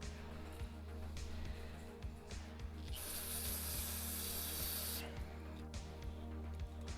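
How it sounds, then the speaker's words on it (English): Sprayer blasting grease out of a part in a home garage: a bright, loud hiss bursts in for about two seconds over a steady background hum and light clicks. "I'm just trying to blast that little bit of grease out of there."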